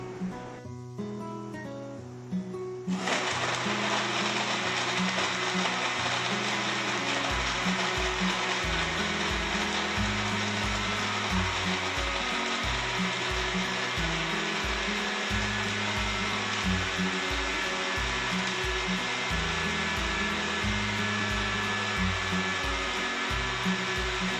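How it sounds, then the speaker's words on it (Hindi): A kitchen blender whirring through a coffee shake with sugar, a loud, steady, close motor roar starting abruptly after a short quiet moment and running on without a break. "हमने इसे अच्छे से ब्लेंड कर लिया"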